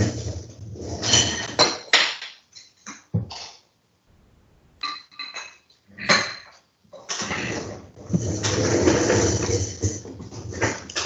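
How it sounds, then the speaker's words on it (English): A glass is picked up and clinked during a pause in a lecture, with soft sips, swallows and a small throat clear following. Gaps of near silence separate the sounds, and brief fragments of voice come before and after. "I need to drink a little bit of water"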